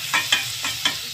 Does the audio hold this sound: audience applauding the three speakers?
no